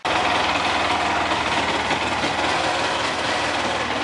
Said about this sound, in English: that horrible noise is the belt drive cover rubbing on the clutch